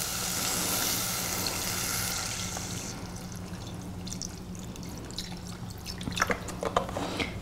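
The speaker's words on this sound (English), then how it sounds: "I'm also going to add some broth" Broth poured into a pan holding peanut butter for a Mexican dish: a steady liquid pour for about two seconds, then soft dripping and light sizzling, close and alone.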